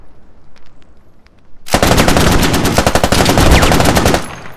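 Sustained automatic fire from an M240G machine gun in a military shooter video game, a dense rapid burst of shots lasting about two and a half seconds after a quiet lead-in, loud and close.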